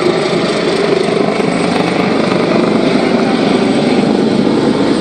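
A loud, steady rotor roar from a helicopter close overhead, a continuous rumbling drone with no break.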